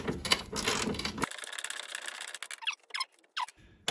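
Ratchet winding a suspension arm bolt on a Ford Ka front end, a close burst of rapid clicking followed by quieter, short intermittent ratcheting strokes with pauses between.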